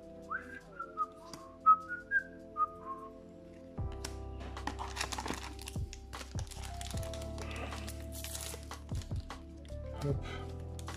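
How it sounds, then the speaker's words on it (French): A short whistled melody of several distinct rising and falling notes plays alone at first, then fades under busy clicking, tapping and layered background sounds that carry on to the end. "la mélodie sifflotée."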